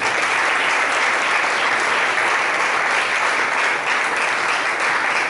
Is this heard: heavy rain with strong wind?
no